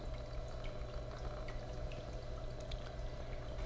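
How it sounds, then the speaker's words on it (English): Water poured over sand on a Black Scorpion table and brushed around, a steady close wash of splashing and trickling with small scattered drips, heard alone without talk. "we'll dump some on here, and we'll just brush it around and let that water move that sand off of there"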